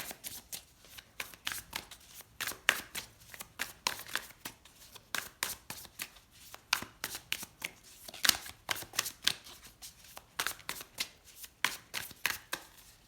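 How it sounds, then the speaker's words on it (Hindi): Tarot cards are shuffled by hand in a steady rhythm of crisp, close riffling slaps, repeating evenly with no talk over them. "अब हम निकालते हैं कुछ टैरो कार्ड्स आप लोगों के लिए।"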